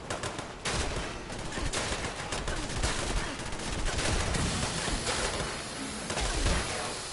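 Dense, continuous gunfire in Fallout 76, rapid overlapping shots and automatic bursts filling the scene, loud and sustained without pause.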